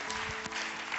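Brief audience applause rises at a sermon, a soft wash of clapping from a crowd, faint and short.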